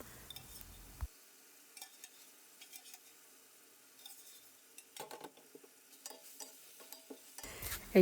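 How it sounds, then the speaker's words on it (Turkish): Scattered scraping and clinking of a spoon stirring beef in a pot, with soft sizzling between the strokes; no talking. "Şöyle bir karıştırıyorum."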